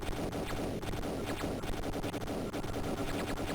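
Rapid automatic firing in a top-down Amiga shoot-'em-up modeled on Gauntlet, a continuous dense rattle of shots with crashing effects running throughout.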